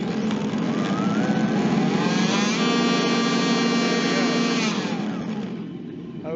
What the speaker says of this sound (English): as the throttle is advanced, you'll hear the engine sound speed up